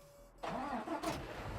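A tractor engine cranks and catches in Farming Simulator 19, settling into a steady mid-pitched idle that stays loud and close, with no talk over it.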